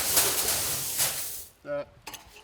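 Soybean seed mixed by hand in a bag or container, a loud continuous rustling and pouring rush for about a second and a half, followed by a few short voiced sounds and light handling noises.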